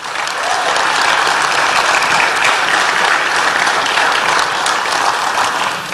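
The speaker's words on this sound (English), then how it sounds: "Give them all a round of applause" Crowd at the Pride in Millville 2023 event applauding sponsors, a loud, dense, continuous roar of clapping from many people that holds steady for several seconds and tapers briefly at the end.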